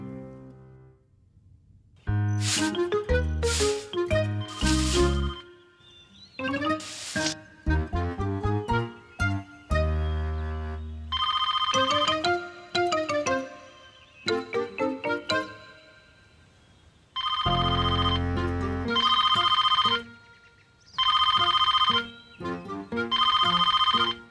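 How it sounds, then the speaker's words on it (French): A cartoon telephone rings in a Miffy episode as a bright, musical chiming ringtone, repeating in short bursts with brief pauses and no talk. "Je vais lui téléphoner et l'inviter à se joindre à nous."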